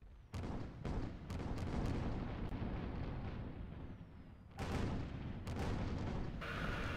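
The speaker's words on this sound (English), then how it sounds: "An interesting broadside battle is ensuing with the two galleons" Two galleons trading cannon broadsides in a naval video game, with sharp booming shots in clusters, each decaying into a rumbling tail, and a fresh volley near the middle.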